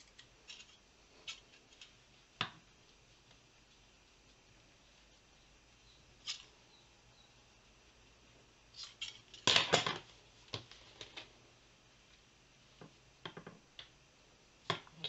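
Scissors cutting a piece of paper for a craft project, quiet, sparse snips and clicks scattered across a near-silent background, with a short cluster of louder cuts in the middle.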